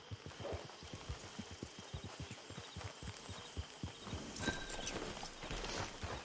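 A horse's hooves clip-clop in Red Dead Redemption, a steady walking rhythm of distinct close thuds that continues for several seconds before blending into louder ambient noise near the end.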